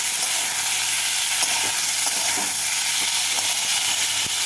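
Tomato and onion fry in a pan with garlic for an okra and potato curry, giving a steady close sizzle with a few faint stirring clicks and no speech.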